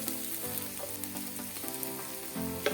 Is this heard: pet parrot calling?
no